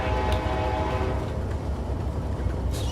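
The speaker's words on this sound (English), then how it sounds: "I can show you guys the horn here if you guys want. It's a quillable horn." Amtrak P42 Genesis locomotive horn quilled in Train Simulator 2017, a sustained, loud horn blast with shifting, wavering tone over steady rumbling rail noise, no voices.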